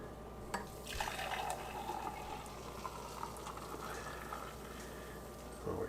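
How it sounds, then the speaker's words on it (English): Maple syrup blended coffee poured into a mug, a soft continuous liquid trickle and splash up close, fairly quiet, with a brief clink near the start and a louder bump at the end. "I'm going to pour right here into my beautiful Homesteaders of America mug"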